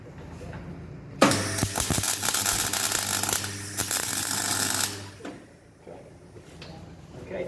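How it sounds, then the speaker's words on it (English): Tack welding a steel spike onto a gabion gate: a loud burst of welding crackle and buzz starts abruptly, holds steady for several seconds with a low hum beneath, then cuts off, leaving faint room noise. "I'm just using tack welding it on for now, okay?"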